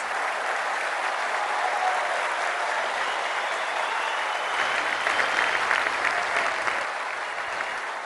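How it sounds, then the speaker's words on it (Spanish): Workers at the Dos Bocas Olmeca refinery in Paraíso, Tabasco, give steady, sustained applause from a large outdoor crowd, even and unbroken throughout with a slight swell near the end. "Un aplauso para ustedes mismos"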